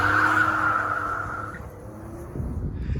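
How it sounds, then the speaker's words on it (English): Tires spinning and squealing in a burnout from a Ford F150 pickup fitted with a Corsa resonator-delete exhaust, a loud sustained screech with engine roar that fades, then a low rumble rising again near the end. "This thing just spins the tires so easily in the rear."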